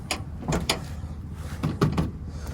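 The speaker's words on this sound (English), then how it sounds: "Let's go to the passenger side, see how this door opens up." An old Chevrolet C20 pickup's passenger door, left sitting for ten years and in rough condition, is worked open with a few sharp clunks and a creak, near and fairly loud, with no talking.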